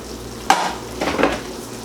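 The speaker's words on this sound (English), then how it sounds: "Whilst my tomato sauce is cooking" Tomato sauce cooks in a pan while a utensil stirs it, two short scraping strokes over a low simmering sizzle, close and fairly loud, no talking.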